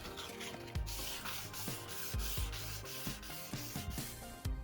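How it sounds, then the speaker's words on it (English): 600 grit sandpaper is rubbed over a car's duckbill spoiler in steady back-and-forth strokes, a close, soft rasping with regular rhythmic scuffs repeating throughout. "before primer I switched to a 600 grit sandpaper and sanded the whole thing"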